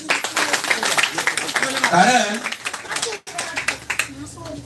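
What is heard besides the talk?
audience clapping for two girls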